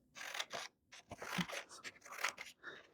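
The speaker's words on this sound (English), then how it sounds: "get your scissor once again. I'm going to cut this part" Scissors snip through paper while a lantern for Lunar New Year is being made, a series of crisp, close cuts in irregular bursts with short pauses between them.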